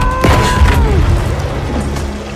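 A lunge mine detonating in the Battlefield V video game gives a loud, deep boom with a short falling whine and rumbling tail over a couple of seconds.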